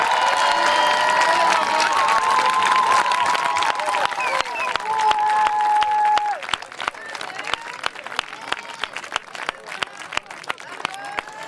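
Dense applause from a crowd fills the room at a parish event in Braine-l'Alleud, Belgium, steady rapid clapping that thins into scattered claps, with a voice and chatter over it early on.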